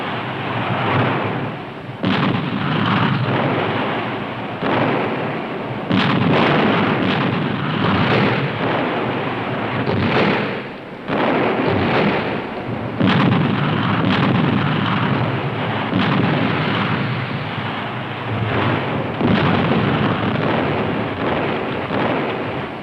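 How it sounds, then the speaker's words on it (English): Russian artillery pounding fortified city blocks in Berlin during the Second World War, a continuous loud roar of distant blasts and rumbling, with sharper bursts standing out throughout. "Each block, turned into a fortress, has to be razed by the Russian artillery."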